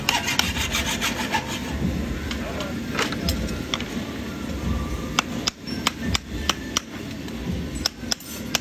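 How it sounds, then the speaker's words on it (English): A farrier's Russian rounding hammer strikes a horseshoe at a live farrier competition, giving a series of sharp, irregular metallic blows over a steady, noisy convention background with some voices. "Hey, Gab, Russian rounding hammer."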